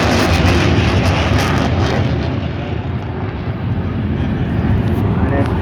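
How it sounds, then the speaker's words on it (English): A Eurofighter Typhoon jet flying a display at the Blackpool airshow runs at maximum reheat, making a loud, unbroken roar that fills the whole clip with a dense, rumbling blast. "pushing the jet to max reheat"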